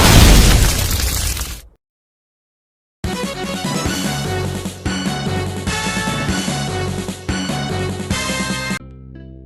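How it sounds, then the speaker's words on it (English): Explosive demolition charges break a building's supports, first as a heavy roaring blast that cuts off abruptly, then after a short silence as a long, loud, dense rumble of the structure collapsing, with a series of overlapping crashes. "The bombs are only there to break the supports and compromise the structural integrity of the building so much that it collapses on itself."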